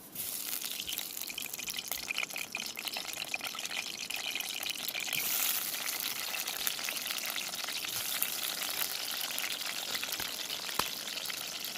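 Plantain simmering in a pot of water, a steady soft bubbling and sizzling hiss throughout with occasional faint clinks, fairly quiet and without speech.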